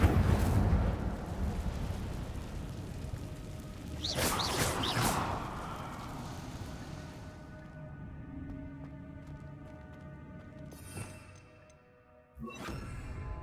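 The Incendio fire spell being cast in Hogwarts Legacy, a whooshing burst of flame that flares loudly for about a second, then trails off into a lower rumbling crackle, with later brief swishes and scattered clatter.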